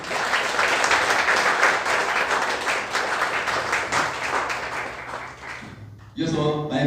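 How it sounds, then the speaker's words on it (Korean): An audience at a party members' meeting for a Democratic Party leadership candidate on Jeju claps loudly and steadily, the sustained applause slowly fading and then dying out, followed by a voice at a microphone. "큰 박수로 맞이해 주십시오"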